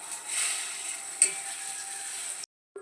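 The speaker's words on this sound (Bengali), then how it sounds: "এ বসে যে ডিম ভাজা করছি" An egg fries in a pan with a steady, moderately loud hiss of sizzling oil, a brief tap partway through, before the sound cuts out abruptly.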